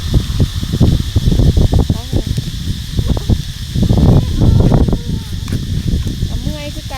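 Gusty wind buffets and rumbles outdoors as dark clouds gather ahead of a rainstorm near home, loud and close. A person talks over it throughout.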